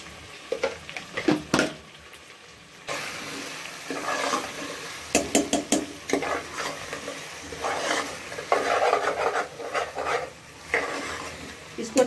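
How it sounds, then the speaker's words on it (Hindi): Potatoes seasoned with vinegar and salt fry in a pan for aloo biryani, a soft sizzle under repeated spatula scrapes and clinks against the cookware, coming in uneven bursts. "आलू अच्छी तरह भून गए, फ्राई हो गए"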